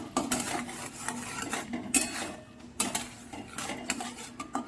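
A utensil stirs mustard paste with turmeric, salt, dried chilli and nigella seeds in oil in a cooking pan for a hilsa fish curry, producing close, repeated metallic scrapes and clinks against the pan over a faint sizzle.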